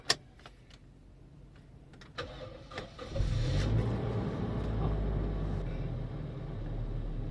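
A Toyota Innova engine cranks with a few clicks and faint clatter, then catches around the three-second mark and settles into a steady, low idle rumble, fairly quiet and close.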